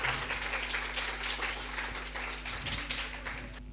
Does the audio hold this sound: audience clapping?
yes